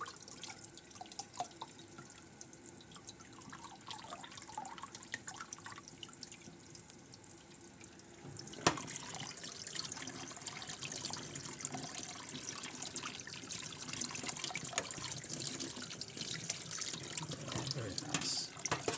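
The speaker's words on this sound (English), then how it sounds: "Get the cold water turned on." Cold water runs steadily from a kitchen tap into a sink while a tapioca and coconut milk dessert is being made, a continuous broadband rush with occasional drips, growing slightly louder toward the end, with faint talk at times.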